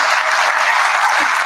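Audience applause for Russ at the Broodstock II awards presentation, loud, close and continuous clapping filling the whole short stretch without a break.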